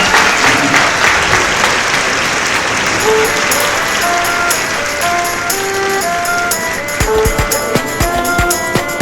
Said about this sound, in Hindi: ये जरा जोर से ताली बजाएं